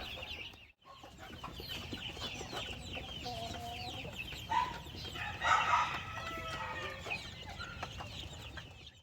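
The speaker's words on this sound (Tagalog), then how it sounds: "Ito na yung mga sisiyo natin mga ka-farmers." On a chicken farm, many chicks peep continuously in a busy, fairly faint chorus, while hens cluck and short calls rise now and then, with no talk.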